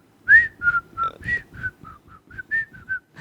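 A person whistles the Andy Griffith Show theme, a bright, close melody of about a dozen evenly paced notes with no talking.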